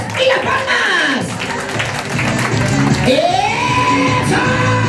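A party crowd welcoming dancers at a child's first birthday, with clapping, whoops and shouts under a loud amplified voice and sweeping music.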